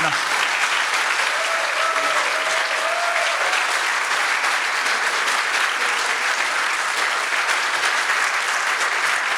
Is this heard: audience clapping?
yes